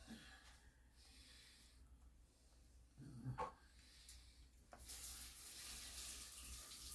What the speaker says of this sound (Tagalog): narinig niyo yung gripo, naggugas siya ng kamay niya para makadut-dut